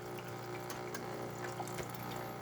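A steady stream of hot water pours out of a Gaggia espresso machine under a constant mechanical pump hum, continuous and close, with no talking.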